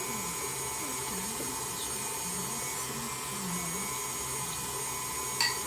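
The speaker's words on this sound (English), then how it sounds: "so I have my hand mixer here." Electric hand mixer running through cookie dough for raspberry lemon cookies, a steady motor whine with wavering pitch as the beaters work, close and continuous.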